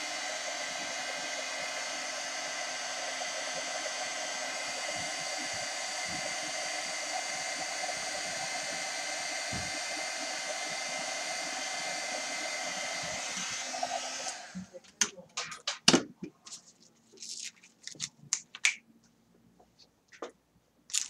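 A heat gun melts black embossing powder on a paper tag, blowing with a loud, steady roar for about fourteen seconds before it cuts off, followed by scattered light clicks and handling noises.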